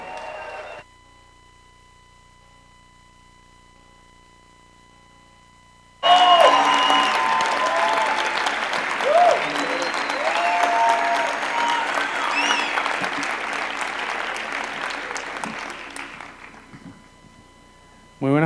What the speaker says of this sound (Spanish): Un aplauso, por favor, para Rubén Blades y Carlos Chirinos.